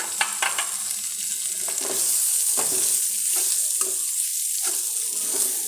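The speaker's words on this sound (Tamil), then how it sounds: "இப்போ வந்து இந்த தேங்காய் ஒரு ரெண்டு நிமிஷம் வணங்கினா போதும்" Grated coconut sautéing with onions in a pan for coconut thuvaiyal, a steady loud sizzle with intermittent stirring scrapes throughout, no talking.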